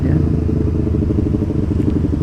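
Motorcycle fitted with a loud racing exhaust rides along a city road, its engine a steady, throbbing low drone close by throughout, with no voices.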